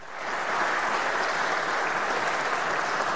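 An audience breaks into applause during a political speech, the clapping swelling quickly and then holding dense and even at close range.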